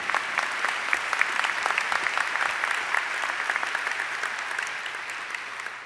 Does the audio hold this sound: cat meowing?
no